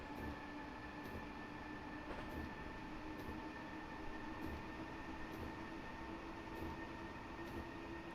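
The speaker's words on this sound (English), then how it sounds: "We're going to ease back the throttle now because we are coming up on 110 very quickly, as we do in this train" Electric passenger train in a simulator game on the Munich to Garmisch-Partenkirchen line, accelerating toward 110 on a stormy night: a steady motor whine and rumble with faint rhythmic wheel clicks throughout, close and continuous with no talk.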